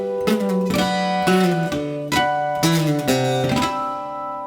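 Electric guitar plays the closing bit of a riff, a sequence of struck notes and chords with sliding pitch changes, close and clear without talk.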